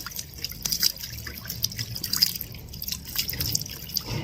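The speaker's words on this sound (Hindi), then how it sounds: "अब उठ के मैं धोऊंगी मुंह" Tap water runs and splashes while someone washes their face, a close, uneven trickle broken by irregular drips and splashes, with no talking.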